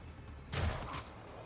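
A single brief gunshot burst in the Warhammer 40K Rogue Trader video game, moderately loud over a quiet background hum, with no talking.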